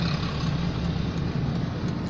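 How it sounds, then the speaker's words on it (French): Trucks work on a road construction site at the entrance to Agboville, a steady rumbling engine drone that holds at constant loudness from nearby without any voices. "Vous voyez les camions qui sont en train de travailler."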